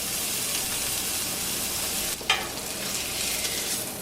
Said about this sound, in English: we're just going to go ahead and sear this meat on both sides and get it brown